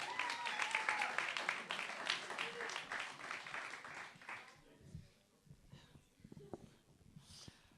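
A crowd at a cultural quiz breaks into applause, dense clapping that fades after about four seconds into scattered claps, murmurs and room noise.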